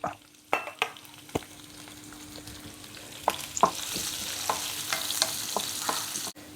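Sliced ginger, garlic and green chillies fry in a pan of oil with fenugreek for a mappas curry, a close hiss punctuated by sharp clacks of a spoon scraping and stirring, the sizzle building louder toward the end.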